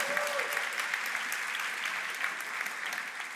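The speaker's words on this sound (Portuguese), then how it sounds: "A gente pode aplaudir ao Senhor por isso?" Steady, dense applause from a crowd fills the whole stretch, even and sustained without breaks.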